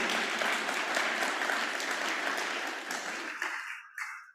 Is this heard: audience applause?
yes